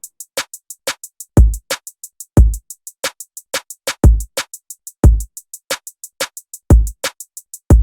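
R&B drum beat programmed in FL Studio: punchy booming kicks and crisp snares land on a steady groove while a bright hi-hat ticks in fast double time throughout, loud and alone with no voices.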